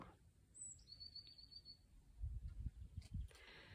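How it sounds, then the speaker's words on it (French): Birds chirp outside a chalet balcony in Vercorin, a few faint, thin tweets and a short trill heard at a distance over quiet outdoor ambience with light low rumbling. "Et je pense que là aussi, vous devez entendre les oiseaux."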